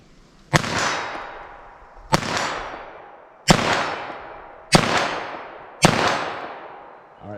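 .22 LR pistol fired outdoors in five sharp, loud shots spaced about a second apart, each crack followed by a long rolling echo that decays before the next.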